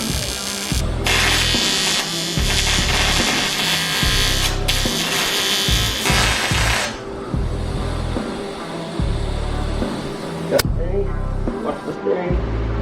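An Eastwood welder tack welding a cut car frame at a corner, giving a steady close electric buzzing crackle that runs in bursts with brief pauses and stops partway, followed by quieter shop hum.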